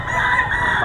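A rooster calls at a Bocaue gamefowl market among older birds for sale, a single loud, close, brief cry.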